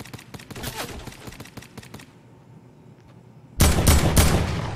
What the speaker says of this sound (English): A suppressed pistol?